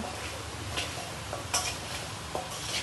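Mango pieces for a pickle are mixed by hand with salt and turmeric, giving a faint, soft wet rustling with a few light clicks and taps scattered through.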